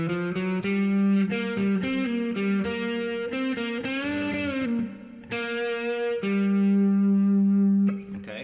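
Electric guitar playing a riff, with a loud, sustained, harmonically rich run of notes that bends and slides midway and ends on a long held tone, with no voices.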